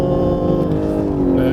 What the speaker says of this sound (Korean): 사운드 제너레이터가 활성화되면서 조금 더 조금 인위적이긴 하지만 그래도 다이나믹한 느낌을 전하기 위한 엔진 사운드가 들리는데요